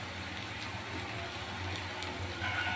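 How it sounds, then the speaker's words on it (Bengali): Potatoes frying in an open, uncovered pan, giving a steady, close sizzle and crackle throughout, with no talking. "এখন ঢাকনা খোলা রেখেই আলুগুলো লাল লাল করে ভেজে নেব।"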